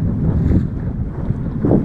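Strong wind rushes and buffets the microphone aboard a Pintail sailboat on Barnegat Bay in 10-15 knot breeze, with water noise beneath, loud and continuous with no talk.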